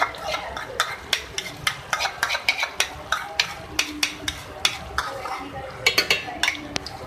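Spoon scraping and clinking against a pan while beef cooks in yogurt for an Eid recipe, sharp regular strokes roughly every half second over a low steady sizzle, near and fairly loud.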